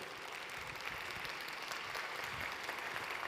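An audience at an international gastronomy conference applauds to welcome a chef on stage, a dense, steady clapping wash that holds evenly throughout, moderately loud and without speech.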